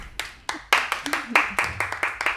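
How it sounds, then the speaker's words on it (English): A small studio audience at a Boston dating-show taping claps for a contestant, producing a few sharp, separate hand claps in a loose, uneven rhythm that stop after a couple of seconds. "give her a round of applause, guys"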